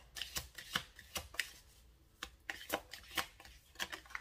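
Tarot or oracle cards handled for a reading, giving soft irregular flicks and snaps as they are shuffled and drawn, close and fairly quiet, with no talking.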